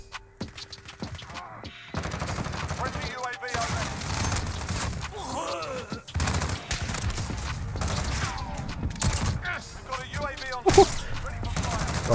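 Sniper and rifle fire rattles through a Modern Warfare match in sharp bursts and single cracks, separated by brief lulls, mixed with game effects and background noise.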